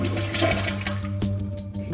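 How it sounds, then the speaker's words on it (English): A toilet being tested after installing a Korky large 3-inch flapper repair kit flushes with a loud, close rush of swirling water, draining steadily, with gurgles toward the end. "Turn off the water supply line and flush the toilet."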